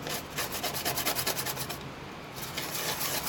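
Brush scrubbing alcohol cleaner over a beer-spilled Dell Inspiron 1525 laptop motherboard, a close, steady rapid rasping rub with rhythmic strokes, briefly pausing before resuming.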